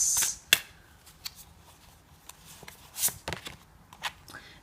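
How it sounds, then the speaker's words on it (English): Tarot cards riffled and shuffled in a few quick bursts, with soft crisp slaps and rustles scattered across a quiet room. "let's give the cards a good shuffle and see."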